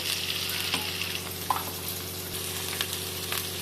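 Three large, finely chopped onions fry in a pan with fennel seeds for a Chettinad chicken curry: an even, close sizzle with a few sharp clacks of stirring.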